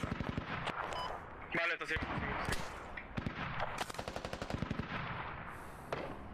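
Rapid automatic gunfire bursts rattle at a turret in the military shooter game Squad, loud repeated volleys with brief pauses, while a player speaks briefly over the shooting.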